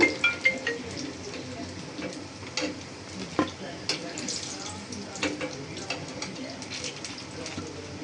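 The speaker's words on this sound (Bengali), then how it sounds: "এভাবে করেই আমি সবগুলো একটা একটা করে ভেজে নেব" Pakoras deep-frying in hot oil, one batch after another, give a steady crackling sizzle with scattered pops and clinks of a utensil, and faint voices can be heard underneath.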